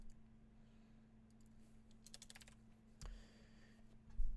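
Fingers tapping computer keys in a sparse, quiet run during a JavaScript game coding session, a cluster of quick clicks in the middle, then a louder knock near the end over a steady low hum.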